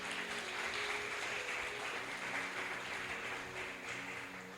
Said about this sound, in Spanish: Dense un aplauso, por favor